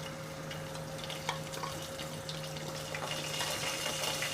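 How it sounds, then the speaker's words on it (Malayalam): Whole cardamom, cloves, cinnamon and cumin frying in hot ghee over a low flame, giving a steady close crackle and sizzle that stays fairly even throughout, with a few faint stirring clicks and no talking. "ഏലക്ക, ഗ്രാമ്പു, കറുകപ്പട്ട, ജീരകം, ഇത് ഇത്രയും കൂടെ നമുക്ക് ഇട്ട് കൊടുക്കാം."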